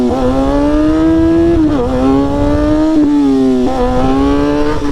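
A stunt motorcycle revs hard and loud throughout a street wheelie, the engine pitch climbing steadily then dropping sharply at each upshift, repeating three times in quick succession.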